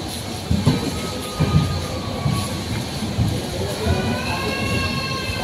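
A passenger train from New Cooch Behar pulls into New Jalpaiguri station, a steady low rumble of rolling wheels with rhythmic rail clicks and thin high squeals as it slows, heard from on board.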